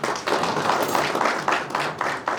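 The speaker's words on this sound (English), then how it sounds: "Can we also give him another round of applause?" A corporate anniversary audience breaks into sustained applause, a dense, steady wash of clapping from many hands that stays loud and even throughout with no talking over it.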